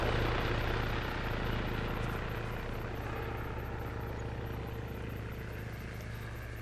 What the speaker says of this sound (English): Choppers out the way.